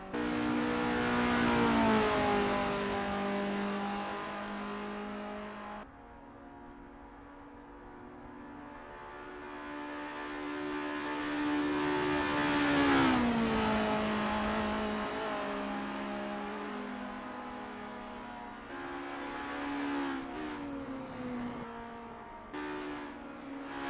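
Race cars warming up at Circuit Piddy in Assetto Corsa: engine notes climb through the revs, drop back on shifts and surge again, several cars droning loudly and continuously with occasional passes.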